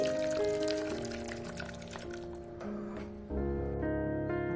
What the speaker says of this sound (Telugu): ఇప్పుడు వాటర్ మొత్తం నీట్ గా వంచేసాను